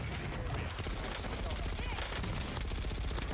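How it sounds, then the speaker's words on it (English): Rapid submachine-gun fire in Call of Duty: Warzone, a dense, continuous burst of shots rattling fast and loud through the whole stretch. "It looked like he had an SMG how fast he was firing"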